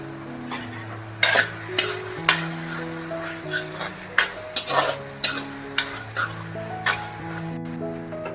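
Tomatoes sautéed in a pan for Kolhapuri misal, with a sequence of close stirring and scraping strokes over a light sizzle and background music.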